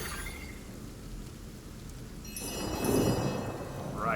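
Steady rain hisses in the video game Divinity Original Sin, a constant wash that swells louder partway through, with faint tonal game sounds above it and no talking.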